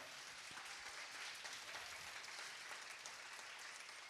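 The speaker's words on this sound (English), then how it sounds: "Can we give the panel, keep giving the panel a hand clap?" Audience members keep clapping for a panel at a leadership summit, a continuous even wash of many hands, quiet and somewhat distant, with no talk over it.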